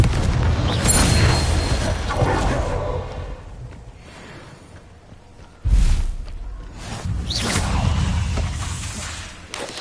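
The Confringo blasting spell in Hogwarts Legacy sets off several deep booming explosions with whooshing tails, one especially sharp blast midway, amid a rumbling, continuous wash of game effects.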